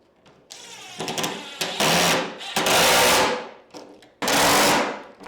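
A power driver sets pocket hole screws to join glued wood pieces for a custom dresser, with several loud whirring bursts of varying length separated by short pauses.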